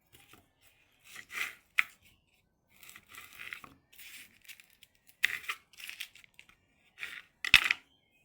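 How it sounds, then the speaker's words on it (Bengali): Onions sliced with a knife for fish fritters, a run of short crisp cuts and crunches, close and fairly quiet, with irregular pauses between strokes. "তো পেঁয়াজ কেটে নিচ্ছি।"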